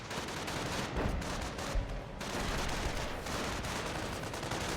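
Dense barrage fire from a Puma armored car in Company of Heroes, continuous rattling shots and explosions rolling at a distance, fairly faint and without talk.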